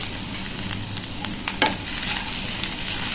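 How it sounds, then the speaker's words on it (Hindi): Onion, chili, ginger and freshly added thin carrot strips sizzle steadily in a hot pan, with a spatula scraping and stirring through the vegetables in close, irregular strokes. "ये 1 मिनट हमने ये सब्जियों को, प्याज को, मिर्च और अदरक को भून लिया है।"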